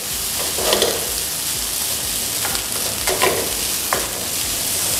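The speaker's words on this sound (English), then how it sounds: "Just keep stirring, it's good enough." American fried rice being stirred in a frying pan, a constant close sizzle with a few quick scraping strokes of the spatula, loud and steady throughout.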